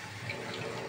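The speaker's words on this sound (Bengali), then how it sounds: "জল দিয়ে দেবো" Water poured into a cooking pot of crab curry seasoned with Kashmiri chili powder, a steady splashing gush that lasts the whole second, close and moderately loud.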